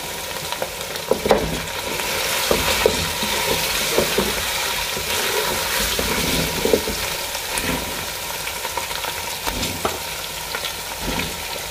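Beef trotters sizzle and fry with ginger in a pot for Lahori paye, a steady crackling hiss with occasional stirring clatters, close and continuous with no talk.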